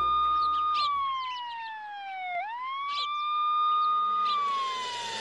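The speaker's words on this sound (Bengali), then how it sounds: "এক্ষুনি একটা অ্যাম্বুলেন্স পাঠান থানায়।" A cartoon ambulance siren wails in smooth rising and falling sweeps, loud and close, continuing for the whole stretch with faint chirpy sounds scattered over it.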